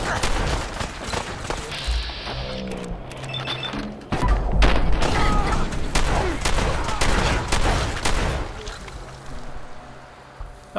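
Grenade blast and gunfire in the Fallout 4 video game, a deep boom followed by dense bursts of rapid shots and scattered impacts, loud and close throughout.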